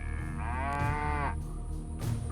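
Cattle low at the crowded Maigatari International Cattle Market, where a single long moo with a rising harmonic sweep stands out clearly over the market's background murmur and a fainter second call.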